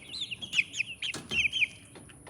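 Young chicks moving about outdoors give a quick run of high, bright peeps mixed with short clucks, close by and lively, repeating in bursts over a couple of seconds.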